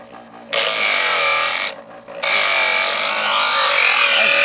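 A Presto EverSharp electric knife sharpener grinds a knife blade with a loud, close, harsh whirring rasp, broken by one short pause before the grinding resumes.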